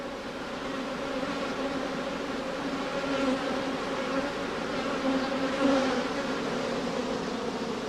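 A defensive honeybee colony that has been heavily smoked during a hive inspection gives off a dense, steady buzzing at close range. It holds a constant level throughout with small swells.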